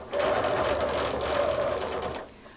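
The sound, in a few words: sewing machine quilting along a ruler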